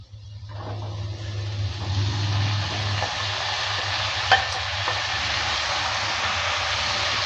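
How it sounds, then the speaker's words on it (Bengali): Steady frying sizzle of mustard greens with potatoes and peanuts, spatula scraping and stirring in a pan, continuous and fairly close, no talking. "সর্ষে শাকটা দেওয়ার পর ভালো করে আবারও নেড়ে চেড়ে নিচ্ছি"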